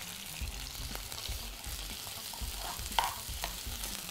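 A beef round sizzles steadily as it sears in a hot pan, with scraping and stirring noises as the meat is turned, and a sharp clink near the end; no voices.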